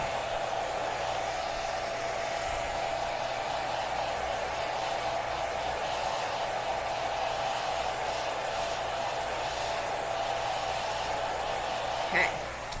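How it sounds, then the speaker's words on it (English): A handheld blow dryer runs steadily and loud at close range, drying a sheet of paper under a dining room light, a continuous airy whoosh with a brief bump near the end. "I'm going to dry it with the blow dryer"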